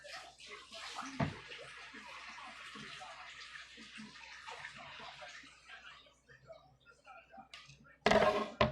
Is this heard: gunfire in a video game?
no